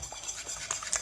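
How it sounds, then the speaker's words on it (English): Yorkshire pudding batter being whisked in a bowl, a faint quick scraping and clinking over about a second, with no voices. "Whisk it up."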